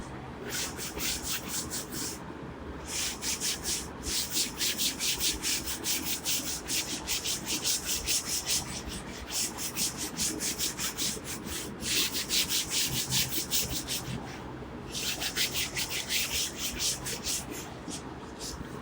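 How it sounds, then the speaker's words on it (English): Chalk writing being rubbed off a board with a duster during a maths lecture, rapid rhythmic back-and-forth scrubbing strokes in several bursts separated by brief pauses, close and fairly quiet. "let me rub this first"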